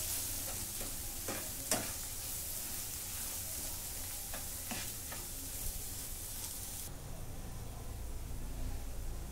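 Homemade onion-garlic masala sautéing and being stirred on a hot tawa for a tawa egg masala: a steady broadband sizzle runs throughout, broken by a few sharp spatula scrapes and clicks, with no voices.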